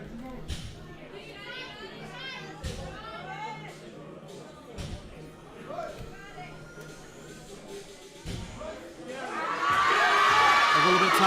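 Spectators at a collegiate powerlifting meet chatter and call out in bursts, then swell into loud sustained cheering and yelling near the end, building in volume.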